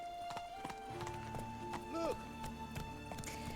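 Roach, the horse in The Witcher 3, trots with brisk hoof clops, and a short whinny rises midway over music and game ambience.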